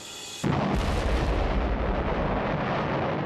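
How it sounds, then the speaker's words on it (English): A sudden powerful blast erupts as foamy material is driven up a tube, followed by a sustained loud roaring rush that fills the space without letting up. "It explodes in an instant, blasting a jet of foamy material up the tube."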